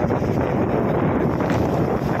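Steady, loud wind buffeting the microphone with a dense rushing roar, unbroken throughout and no voices.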